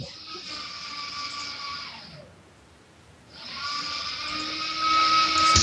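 A blender whirs loudly with a high, steady drone, cuts out for about a second, then starts up again and runs even louder.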